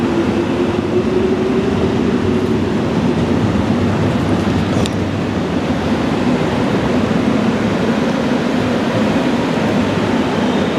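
A subway train pulls into a station in Korea, its steady loud rumble and rolling roar filling the whole stretch, with a brief metallic squeal partway through and no voices over it.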